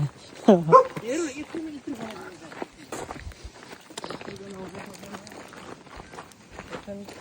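A dog barks a few times near the start in a Korean village, then people keep talking over faint background movement.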